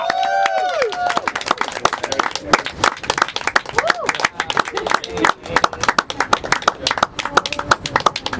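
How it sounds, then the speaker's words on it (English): Audience clapping with scattered cheers at a storytelling event, a steady patter of hands running under voices and excited calls throughout. "Let's give Desta another round of applause."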